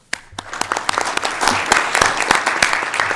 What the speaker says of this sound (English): a big round of applause for Kevin McGruer here on behalf of Siemens